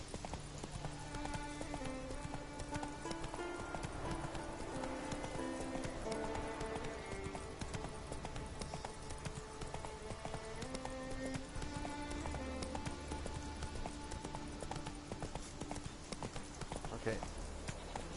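In The Witcher 3, a horse's hooves clip-clop in a steady trotting rhythm on the ground. They continue throughout, mixed under game music and ambient sound.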